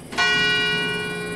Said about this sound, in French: Sympa cette cloche.